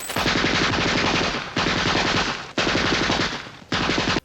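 A machine gun sound effect recalling the gangland shooting of seven men in a Chicago garage: three or four loud, rapid rattling bursts of automatic fire, each cut off sharply, with no talk.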